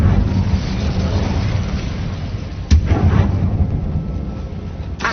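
An Incendio fire spell in Hogwarts Legacy blasts a wooden barricade: a sharp burst partway through over a rumbling game background, with a second smaller hit near the end.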